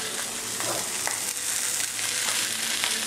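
Cooked, plump gnocchi sizzle in olive oil in a pan, giving a steady, close frying hiss with faint stirring scrapes, and no one speaking.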